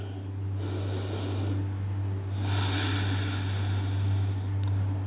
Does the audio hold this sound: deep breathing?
yes